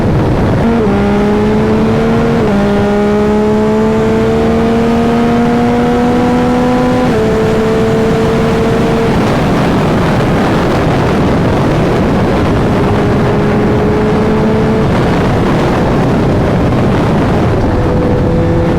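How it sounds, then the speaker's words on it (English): A 2021 Yamaha MT-09 motorcycle with a flashed ECU revs and accelerates hard through several gear changes, its loud engine note climbing and then dropping at each shift, heard close amid wind rush. "The bike does accelerate pretty nice."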